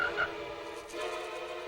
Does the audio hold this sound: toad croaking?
yes